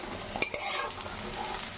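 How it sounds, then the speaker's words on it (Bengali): Potatoes and onions frying in a pan, a close continuous sizzle with a couple of quick spatula stirs and scrapes near the start. "আলু পেঁয়াজ ভাজা"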